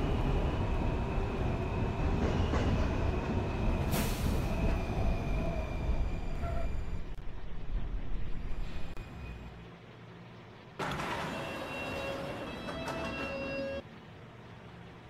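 A video game subway train rumbles steadily along, its low roar dropping away midway and then surging back, with faint high tonal whines riding over the noise.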